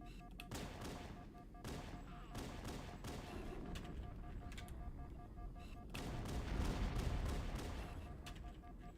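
Gunfire in Halo: Combat Evolved, heard as repeated sharp shots in bursts over a busy low rumble of battle, fairly faint overall, with a voice talking at times.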